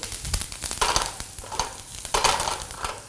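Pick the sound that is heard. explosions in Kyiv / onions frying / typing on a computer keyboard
onions frying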